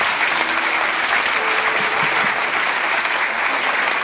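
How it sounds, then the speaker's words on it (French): A congregation applauds at a church thanksgiving service marking a 60th birthday and 35th wedding anniversary: dense, sustained clapping from many hands fills the space evenly throughout. "nous allons encore l'acclamer très très fort"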